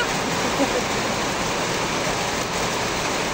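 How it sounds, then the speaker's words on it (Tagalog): Steady heavy rain pours down in a constant hiss, loud and close, with no pauses. "yung mga bata naliligo kasi umuulan na"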